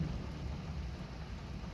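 Low rumbling thunder from a passing thunderstorm rolls on steadily under a constant wash of rain, fairly loud and continuous with no voices.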